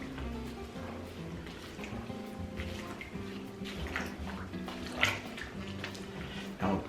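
Salt is stirred into raw peanuts in a pot of water for Southern boiled peanuts, producing soft sloshing and knocking of the nuts, with a few louder clunks against the pot, close up and without any talking.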